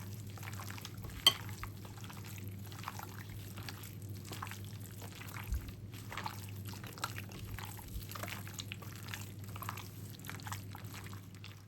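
A chicken marinade of thick cream and spices is mixed in a bowl, making soft, wet stirring and squelching sounds up close. A faint steady hum sits in the background, and there is no talking.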